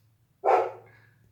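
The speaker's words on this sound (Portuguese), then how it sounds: "Olha o cachorrinho." A small dog gives a single short, sharp bark close by, with a brief tail after it, over a low steady hum.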